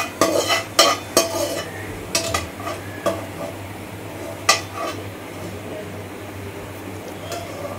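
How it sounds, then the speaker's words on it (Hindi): Cumin seeds with asafoetida roasting in hot mustard oil in a pan: a soft steady sizzle broken by sharp clinks and scrapes of a metal spoon stirring against the pan, loud and close, busier at the start. "जीरे को थोड़ा सा हम भूनेंगे।"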